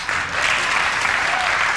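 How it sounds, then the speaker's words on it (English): A studio audience at a television talk show applauds, producing a brief, continuous wash of clapping at an even, moderate level. "like 4 people started clapping"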